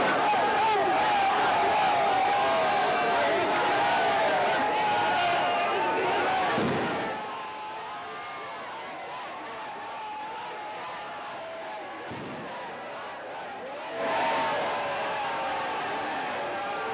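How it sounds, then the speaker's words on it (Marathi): A crowd in Solapur celebrates India's T20 World Cup win over South Africa as firecrackers burst. A dense, continuous din of cheering and firework crackle rises with sharp, loud bursts, while a voice talks over the commotion. "सोलापूर मधला हा आपण जल्लोष पाहतोय। गुलाब उधळला जातोय, फटाके फोडले जात आहेत"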